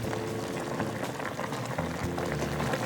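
Scallion pork ribs boil hard in a pot over high heat, a steady close bubbling seethe that runs unbroken and fairly loud, with no voices.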